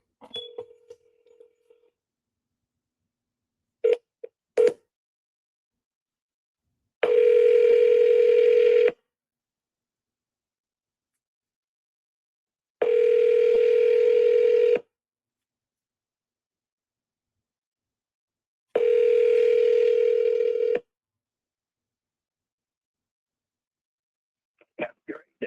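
A landline telephone gives a brief steady dial tone, then short dialing blips, followed by three long evenly spaced tone bursts with silence between them, heard clearly with no talk over them.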